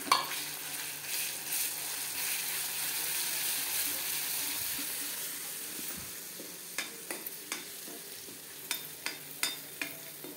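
Garlic and cumin paste fries with onion in a pan for okra bhaji, a constant loud sizzle with stirring scrapes and a series of sharp clinks near the end.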